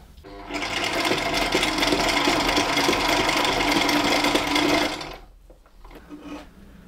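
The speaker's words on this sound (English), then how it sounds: "we've got a couple of skip stitches we're at the limit of what's possible with the machine" A Sailrite sewing machine stitches through eight layers of material, close and loud, at its limit with some skipped stitches. The motor hums and the needle chatters steadily for about four seconds, then stops, leaving quieter handling sounds.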